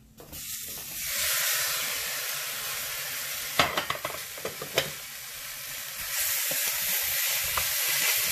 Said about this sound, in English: And now is the time to add the tomatoes, which also I have cut into 1-inch cube sizes.